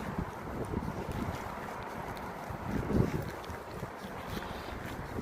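Steady rushing wind over a low, churning wash of surf, with a louder surge of water near the middle.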